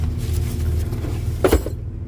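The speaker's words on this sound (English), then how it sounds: "It's a little high on the idle right now." A 1993 Nissan Pathfinder XE with a rebuilt V6 idles a little high, giving a steady, low, close engine hum. A brief clunk sounds near the end before the noise cuts off.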